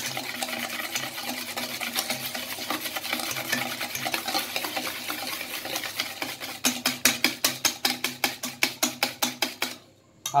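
Sugar being mixed into cookie dough gives a continuous scraping stir, then turns into a run of rhythmic, evenly spaced scrapes or taps near the end before a brief pause.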